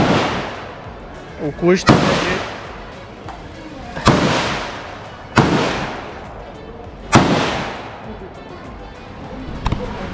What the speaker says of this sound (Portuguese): Aqui é o stand de tiro. A partir daqui só pode os atiradores.